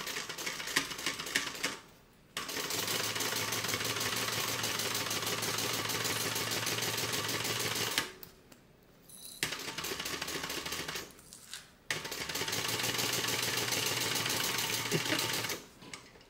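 A sewing machine stitches a tote bag in three long, loud, steady whirring bursts separated by brief pauses, close up and with no voices.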